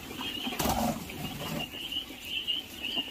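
Quail on a village poultry farm give steady, fairly faint high-pitched calls over continuous farm ambience.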